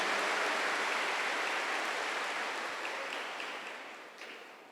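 A church congregation applauds during an Easter sermon on Christ's resurrection, producing a dense, continuous wash of clapping that fills the room and slowly fades toward the end.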